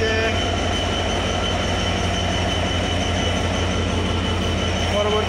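The Nilsagar Express passenger train rolls into Saidpur railway station with a continuous heavy rumble and metallic wheel screech, loud and close throughout.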